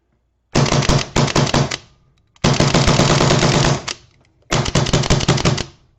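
Rapid bursts from a paintball marker fitted with an Inception Designs HF valve, three strings of fast, loud, evenly spaced shots with short pauses between, close to the mic and with no talking.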